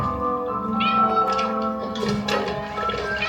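A cat meows in a drawn-out, insistent wail, close and loud, its voice rising and falling over a few seconds.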